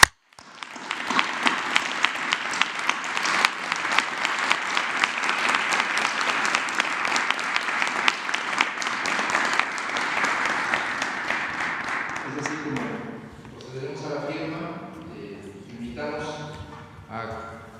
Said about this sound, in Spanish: yo propondría un aplauso por este entendimiento